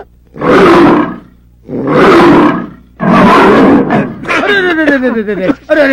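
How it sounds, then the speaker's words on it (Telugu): Three loud, long tiger roars in a row, each swelling and fading with short gaps between, followed by a higher wavering animal cry at the end; close and alone with no talk. "నువ్వు పులి అరిచినట్టు డిటిఎస్ సౌండ్"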